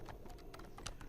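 Fingers tap out a Java compile command on a computer keyboard, a quick, faint run of key clicks in a quiet room.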